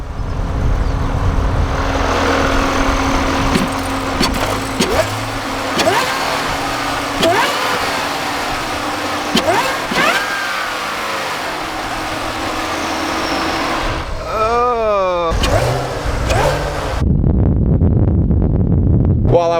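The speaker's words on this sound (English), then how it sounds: "the only time you can really hear the whine is when I close the valves" Corvette Z06 with a supercharger, its engine running steadily with revving surges and a faint whine, heard close and loud; a rising and falling sweep near the end before the engine cuts out.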